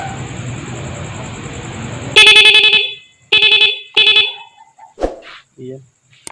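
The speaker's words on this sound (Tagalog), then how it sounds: "maganda na po yung tunog ng ating busina o horn" A rapid horn fitted to a motorcycle blares close and loud in three short, bright honks separated by brief gaps, with a few clicks and knocks of handling afterwards.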